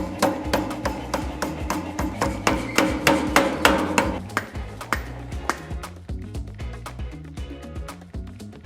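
Hammer blows flatten a hot forged steel cleaver blade on an anvil, a steady rhythm of sharp ringing strikes roughly every third of a second, loud and close, with the blows softening toward the end.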